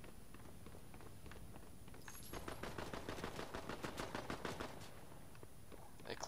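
Rapid automatic gunfire in Fortnite, a stream of quick, even cracks that starts about two seconds in and keeps going for several seconds at moderate distance, with no talk over it.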